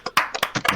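Audience clapping at a Homestuck lecture, heard as a few short bursts of scattered hand claps that come in uneven waves and fade quickly.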